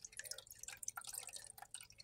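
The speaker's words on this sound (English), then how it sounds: "I'm going to add some water because it's a little low." Water added to a hydroponic garden tank, a faint close trickle of scattered drips and splashes running throughout, quiet and with no voices.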